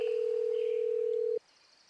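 A steady electronic telephone tone holds for over a second at an even pitch, then cuts off abruptly, leaving faint background hiss.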